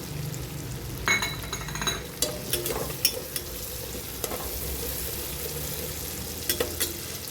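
Cashews being stirred into roasted tomato in a hot pan, a steady close sizzle of frying with scraping stir strokes and occasional sharp clinks of a utensil against the pan.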